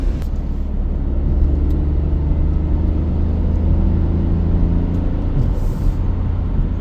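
A turbocharged 2026 Toyota GR Corolla engine idles while warming up, giving a loud, steady low rumble with no talking.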